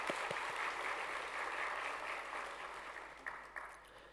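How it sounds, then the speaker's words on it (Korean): Church congregation at a Sunday worship service claps together, a soft, distant swell of applause that fades gradually, with a few louder individual claps toward the end. "네, 다 같이 박수로 위로를 전해드리도록 하겠습니다."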